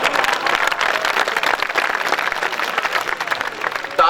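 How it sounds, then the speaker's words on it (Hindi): Sustained, dense applause from a large audience at a Hindi poetry gathering, loud and continuous throughout with no pause. "ताली की आवाज एक जैसी आती है"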